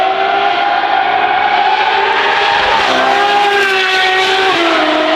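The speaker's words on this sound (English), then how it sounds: "this is what a proper V12 sounds like" A high-pitched V12 engine wails steadily at high revs, its tone dipping briefly and then climbing again, loud and close.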